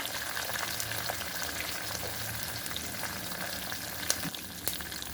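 Asafoetida sizzles in hot cooking oil, a constant near frying hiss with light crackling and a couple of sharp utensil taps near the end, with no talking.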